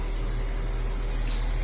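A household tap turned on at high pressure sprays water in a loud, constant rushing hiss with a low hum beneath, close and uninterrupted.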